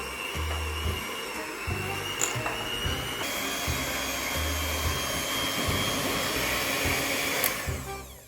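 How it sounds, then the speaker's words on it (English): An electric mixer beating butter and powdered sugar in a bowl: a continuous, fairly quiet motor whir with a rhythmic low pulsing as the beaters churn, steady throughout with no talk. "give it a good mix with an electric mixer"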